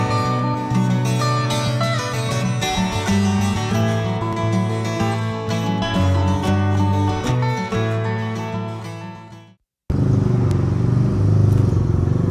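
A large 300cc motorcycle on the road, its steady engine drone carrying loud and continuous, briefly cutting out near the end before resuming.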